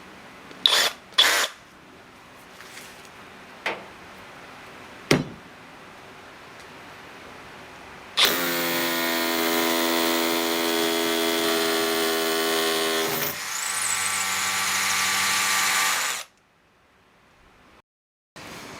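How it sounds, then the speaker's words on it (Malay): A hammer drill runs, with several sharp knocks and clicks first, then a loud, continuous buzzing hammering drone for about eight seconds that shifts pitch partway through before cutting off to quiet. "kita demo untuk hammer drill pula"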